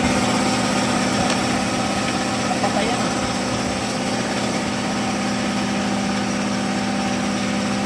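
A carbureted Suzuki Raider 150 motorcycle engine idles nearby with a steady, even running note under a constant mechanical hum. There is little variation across the stretch, and voices may be faintly present.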